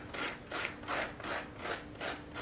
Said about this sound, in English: We're going to scrape some of the squash, not all of it